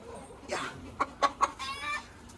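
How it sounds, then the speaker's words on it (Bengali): A hen kept for eggs gives a few short, close clucks in quick succession, fairly quiet over a soft background. "এটা হলো পিসির মুরগি, এটাতে ডিম দেয়"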